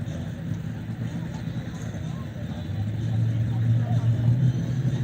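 A split-bumper Camaro sits staged at a drag strip, its engine rumbling low and steady, then swelling louder about halfway through amid outdoor background noise and faint voices.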